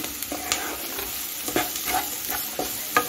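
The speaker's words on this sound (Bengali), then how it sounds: "দিয়ে একটু নাড়িয়ে নিচ্ছি।" Vegetables with baby corn frying in a pan while being stirred, with a steady sizzle under repeated scraping strokes of a spoon, close and fairly quiet, no talking.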